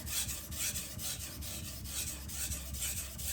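A Karaku AS gyuto 210 mm chef's knife is stroked back and forth on a 1000-grit whetstone, making a steady, close, rhythmic rasping scrape with about six or seven even passes.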